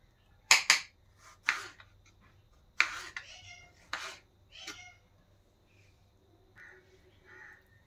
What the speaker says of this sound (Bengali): টমেটোগুলো আমি একটু বড় বড় সাইজ করে কেটে নিচ্ছি